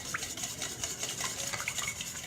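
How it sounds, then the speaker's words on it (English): A whisk beats a raw cane sugar mixture in a bowl, giving a quick, steady run of faint scraping, ticking strokes close by, with no voices. "I'm going to start whisking these together."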